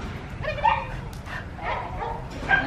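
A Border Collie, a herding working breed, gives a few short yips and whimpering barks in quick succession, fairly close, with a little faint background noise between them.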